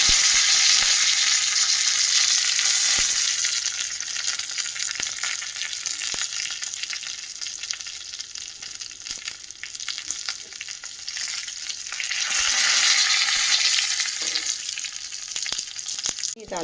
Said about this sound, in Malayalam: ആദ്യമേ തന്നെ ചൂടായ എണ്ണയിലേക്ക് കടുക് ഇട്ട് കൊടുത്തു.